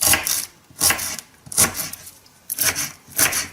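A knife cuts through a whole unpeeled onion for an onion-and-milk cough remedy, making five crisp, rhythmic chopping strokes with short pauses between them.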